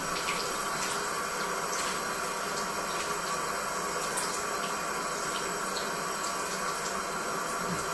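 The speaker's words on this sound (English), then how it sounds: "So I'll pop the tap on again." A kitchen or bathroom tap runs steadily as makeup brushes are rinsed under it, a constant close hiss of flowing water with no breaks and no voices.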